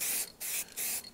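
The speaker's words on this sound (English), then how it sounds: "If I just hold it and spray, it's just going to gather and run down." Three quick bursts of primer from a spray can onto a bare metal model, each a sharp hissing blast separated by short pauses, close and clear with no voices.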